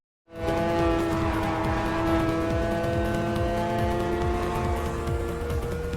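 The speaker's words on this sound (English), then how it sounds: "Despite the fact that the cars sound like lawnmowers sometimes" Racing video game cars roar continuously with sustained engine tones and squealing tires, loud and steady for the whole stretch after a brief silent start; the engines have a thin, buzzy, lawnmower-like quality.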